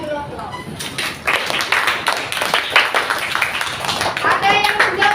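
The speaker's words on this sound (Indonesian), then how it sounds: "Kasih dulu aplaus." Classroom applause from a group of pupils after a correct answer, steady clapping for about five seconds, fairly close, with some voices mixed in.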